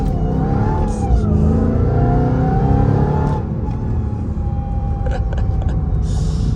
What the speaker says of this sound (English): I love the like sound when you let off the Whine.